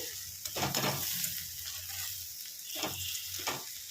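Pasta being stirred into a pan of tomato sauce, a soupy one-pot pasta cooked without boiling the noodles separately, with a steady sizzle and a few louder scraping stirs close by.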